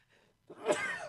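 A single close sneeze in a casual indoor conversation, a faint breath first, then one sharp burst and a short trailing exhale.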